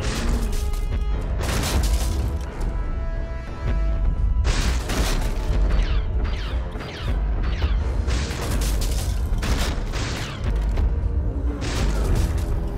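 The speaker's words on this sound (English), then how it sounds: "Tank explode!" A tank explodes in the game The Deadly Tower of Monsters amid continuous loud booming blasts and crashing impacts, with dense overlapping bursts sustained throughout.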